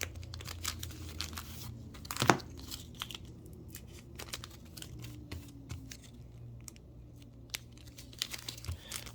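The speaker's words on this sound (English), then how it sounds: "now we have to put our hologram tamper-proof stickers on" Hologram tamper-proof stickers are peeled off and pressed onto sealed plastic bags, giving soft close crinkling and rustling with one sharp ripping tear early on, over a low steady hum.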